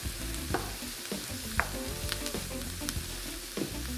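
Carrots and celery fry and sizzle in a pan while being stirred, a steady crackle with a few scraping knocks of the utensil, close and moderately loud with no talking.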